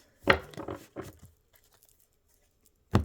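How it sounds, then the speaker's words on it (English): Tarot cards shuffled by hand in a few quick papery riffles and slaps early on, then a pause and one more sharp card snap at the end, close and clear. "All right, one more shuffle"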